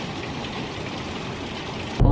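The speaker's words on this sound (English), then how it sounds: "It is raining a lot." Heavy rain pours steadily, a dense continuous hiss and patter with no voices, ending in a brief louder thump.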